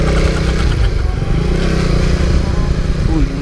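Yamaha Raider 150 Fi motorcycle engine revved hard to shake off leftover water after cleaning, a loud, close, buzzing roar held steady for a few seconds with slight rises and dips in pitch.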